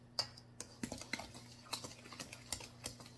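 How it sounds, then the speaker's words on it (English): Wire whisk stirring chocolate cake batter with cocoa in a bowl, giving a run of quick, light tapping clicks against the bowl in an irregular rhythm, close and fairly soft, with no talking. "I'm going to go with this and use this whisk."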